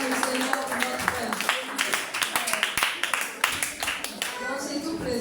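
A church congregation applauding at a Sunday service, a steady patter of rhythmic clapping under someone speaking over it.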